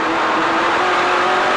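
Stock race cars roar around the Mosport circuit in a loud, sustained engine drone with a steady high whine, close and continuous, with no talking.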